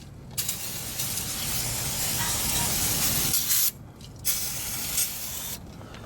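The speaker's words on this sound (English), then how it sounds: "And I will give it all a good brake cleaner spray." Brake cleaner sprays in long, loud hissing bursts onto the brakes of a 2003 Toyota Tundra, with brief pauses between the blasts and short rattles from the aerosol can.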